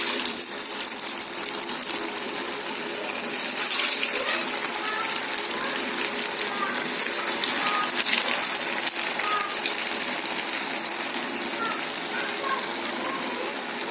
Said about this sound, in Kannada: ಬೇಯಲಿಕ್ಕೆ ಬಿಡೋಣ ಎಣ್ಣೆನಲ್ಲಿ